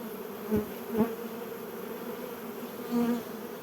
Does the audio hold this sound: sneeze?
no